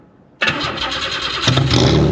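A race car's engine cranks briefly and catches at an autocross event, then settles into a loud, steady idle with a slight rise in revs near the end.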